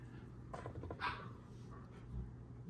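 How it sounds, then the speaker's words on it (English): A dog barks a few times in the distance, faint and brief against a quiet room background. "Doggy is barking."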